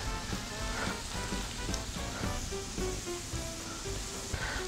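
Pork fillet slices fry with a drop of oil in a preheated pan, giving a steady, close sizzle with crackles and pops, with no voices.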